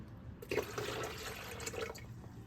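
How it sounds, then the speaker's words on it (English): Water pours steadily into a pot of thick home-canned hunters chili, a continuous liquid splash and gurgle at close range with no talking over it. "And then adding a little bit of water, about half and half."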